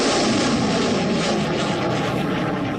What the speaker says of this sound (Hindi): Sukhoi 30 MKI